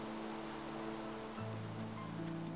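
Rain falling in Minecraft, a faint, steady wash of soft patter that continues evenly through the moment, with a low hum underneath.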